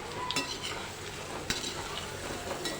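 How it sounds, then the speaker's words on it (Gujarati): Pieces of patra stirred into hot oil already tempered with mustard seeds, curry leaves and white sesame, giving a steady close sizzle with a few soft clinks from a spoon against the pan and no voices. "હવે આપણે આ જે પાત્રા બનાવ્યા છે તે એડ કરી દઈશું"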